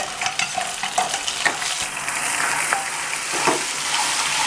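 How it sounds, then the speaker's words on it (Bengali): Onion paste fries in oil with cardamom and bay leaf, giving a continuous close sizzle broken by frequent scraping stir strokes, and no voices. "পেঁয়াজটা একটু ভেজে নিচ্ছি ভালো করে।"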